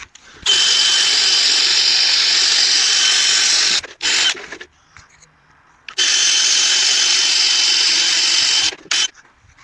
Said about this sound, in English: I'm going to use a caramel wheel to remove the glue residue from the badges.